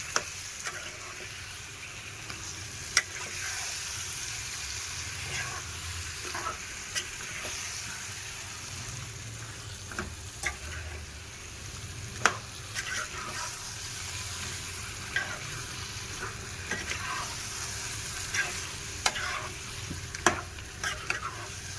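Chicken masala frying in a pan and being stirred, with a steady sizzle and scattered scraping clicks of a spoon against the pan, continuous and close with no voices.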